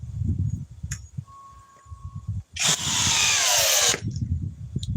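An old power drill, about nine years old, whirs loudly for about a second and a half at its second speed setting, a steady high-pitched spin that starts abruptly and cuts off, with quieter handling noise around it.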